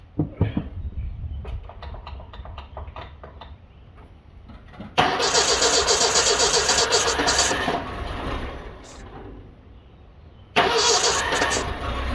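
A 1980 Mercury Bobcat, a Ford Pinto twin with 300,000 original miles, cranks with rapid starter clicks, fires into a loud running roar, drops to a steadier idle, then revs up again.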